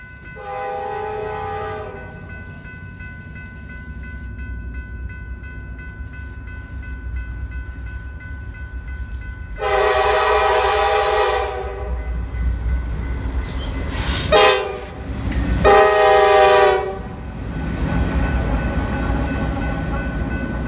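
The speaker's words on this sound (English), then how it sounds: "Well, that's a big old train." A big Norfolk Southern P60 freight train passes a railroad crossing, its deep rumble running throughout while the loud air horn sounds three times: a long blast, then a second long blast, then a short and a long one close together.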